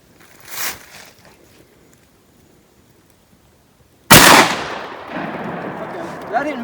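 A 10 gauge Foster slug fired from a shotgun at a can of chili and a can of black beans set on a stump outdoors: one sudden, loud blast with a trailing echo, preceded by a fainter thud.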